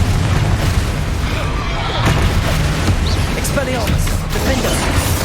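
Confringo fire spell from Hogwarts Legacy, the video game, set off in combat: dense, continuous booming blasts and crackling bursts that stay loud and close the whole time.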